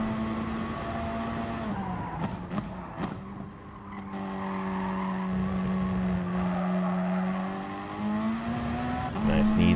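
Race car engine in Gran Turismo Sport holding a steady, droning tone with shifting pitch as it accelerates and brakes, plus brief tire squeal; continuous, moderately loud, without voices.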